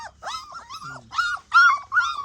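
A dog makes a run of whiny, tonal vocalizations, high yelping whimpers with a brief low growl in the middle, close and fairly loud, with no talk over it.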